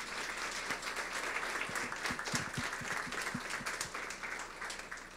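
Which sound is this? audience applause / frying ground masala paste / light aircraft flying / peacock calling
audience applause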